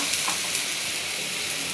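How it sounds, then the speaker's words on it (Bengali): Water poured into a pan of frying ground spice paste makes a loud, close, continuous hiss and sizzle through the brief moment, with no voices. "মশলাটা ভাজা হয়ে গেছে, এবার দিয়ে দিব একটু পানি। মশলা বাটা যে পানিটা ছিল ওইটাই দিয়ে দিলাম।"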